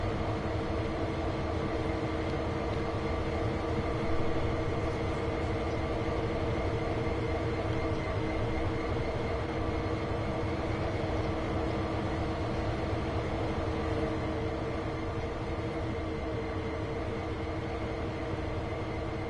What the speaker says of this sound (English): It's like an automotive freight with two SD40 AC in front.